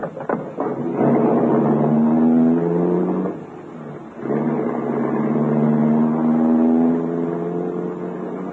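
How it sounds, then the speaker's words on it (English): A limousine engine hums steadily as the car pulls away and cruises, with a smooth tonal drone that dips briefly mid-way as if shifting gear, then carries on at the same even level. "He turned the car away from the main center of the city, and we drove for a while in complete silence"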